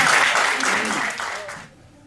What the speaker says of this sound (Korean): 여러분 저 인간 문화재 우리 박광천 위원장님께 박수 부탁합니다.